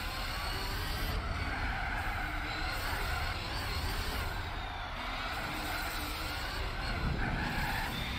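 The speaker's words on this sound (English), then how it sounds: "The car just flat out slid." Sustained tire skid in Gran Turismo 4, a steady broadband scrubbing hiss with engine drone beneath, loud and continuous for several seconds without a break.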